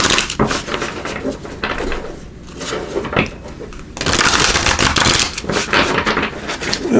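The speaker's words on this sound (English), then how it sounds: "And then let me give these a shuffle too." Tarot cards shuffled by hand, a rapid riffling, flapping patter in close bursts with a brief pause midway before a louder, denser run of shuffling.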